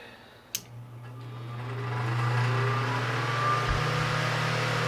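An old thrift-store electric fan with repainted grills and a 2-pole motor starts up after a brief click, its steady low motor hum and broad airy whoosh swelling and then holding evenly, close and alone.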